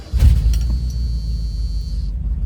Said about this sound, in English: Sitting for 18 years, fires right up.